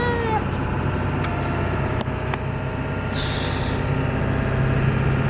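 A cat meows a few times inside a moving vehicle on a mountain road near Estes Park during a wildfire evacuation, brief plaintive calls over a steady engine and road rumble.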